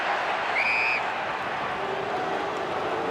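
A football stadium crowd at an AFL match between Carlton and Fremantle roars and applauds in a broad, sustained wash of noise, with a few whistles rising briefly above it.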